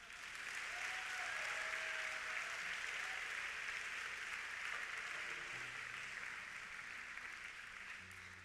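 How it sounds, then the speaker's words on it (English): A large conference crowd claps in a steady, sustained wash of hands that holds evenly throughout, with faint tonal sounds and stray voices beneath. "You can clap for that."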